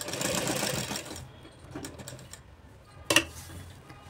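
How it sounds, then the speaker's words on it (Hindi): A sewing machine stitches the pocket of a palazzo pant in one quick, close burst of about a second, then stops, followed by a single sharp click. "ऐसा पलट कर ऊपर से सिलाई लगा देना है। तो हम सिलाई लगा देंगे"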